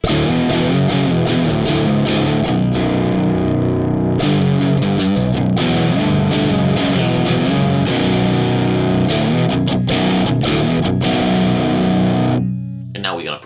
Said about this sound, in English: check how this mode sounds when you engage the boost